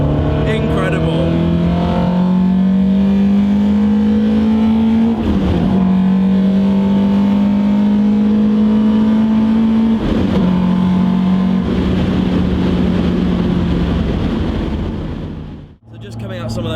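Alfa Romeo GTA R 290 engine accelerating hard through the gears, a loud close steady drone that climbs in pitch, dips briefly at each shift around five and ten seconds, then cuts off sharply near the end.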